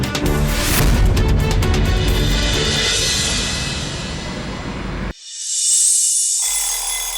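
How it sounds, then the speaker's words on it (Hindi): An alarm clock rings in a home during a drama scene, a loud, dense ringing that sounds continuously over several seconds, cuts off abruptly and then resumes briefly. "कौन है जिसने अलार्म लगा दिया?"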